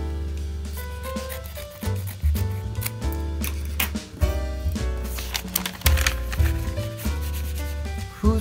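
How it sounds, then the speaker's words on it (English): Scissors cutting open a paper envelope turned face down, close up: a run of repeated rasping, crunching cuts and paper rustles with short pauses between strokes, no talking. "裏返しにしてハサミで"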